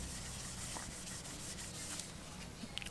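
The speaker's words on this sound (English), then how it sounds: "Wipe it off with your microfiber cloth again just to get it dry" A microfiber cloth wipes the camera bump of a Galaxy S21 Ultra phone, giving a steady, close, soft rubbing swish that runs without a break, with no voices.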